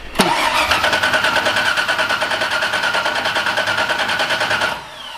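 A BMW E36 with a V8 swap turns over, catches with a sharp burst and settles into a rough, pulsing idle for several seconds before cutting off abruptly. No one speaks.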